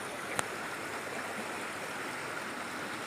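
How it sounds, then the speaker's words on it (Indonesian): A small river flowing near a villa in Cisarua, Puncak: steady broadband rushing water, even and continuous, with one brief click near the start. "Ada sungai kecil, teman-teman."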